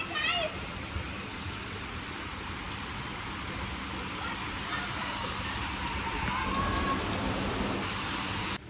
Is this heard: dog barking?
no